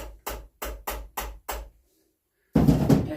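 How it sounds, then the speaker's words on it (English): Hammer taps setting a part while mounting a striper (rockfish): five sharp, evenly spaced knocks close by, then a pause and a burst of broadband rustling. "tap it in with a hammer."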